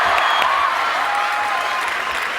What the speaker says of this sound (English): Give me a clap on that.